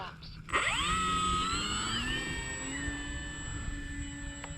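An electric E-flite Maule M-7 RC plane on 4S power throttles up for a flapped takeoff, its motor whining up in pitch and holding a steady buzzing drone that fades slightly as it climbs away.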